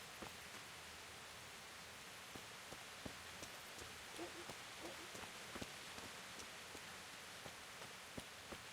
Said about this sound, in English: I'm stuck in the rain in the middle of nowhere.